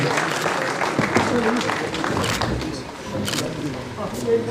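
Applause for Mister Irfan at a NEET felicitation ceremony held by a career institute in Srinagar, a steady crowd clapping sustained across the clip with voices and tonal sounds mixed in.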